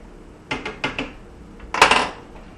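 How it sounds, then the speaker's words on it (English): A utensil clinks and scrapes against a pot of noodles being stirred for three-cheese mac and cheese: a quick run of three or four close metallic knocks, a pause, then a louder, denser clatter. "when you're making your noodles, stir them around so they don't stick at the bottom"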